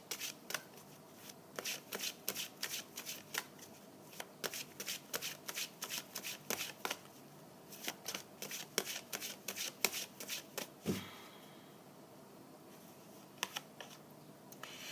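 Oracle cards being shuffled by hand, a steady run of crisp riffling snaps and soft slides up close, continuing for several seconds before easing into quieter handling at the end, with no voices.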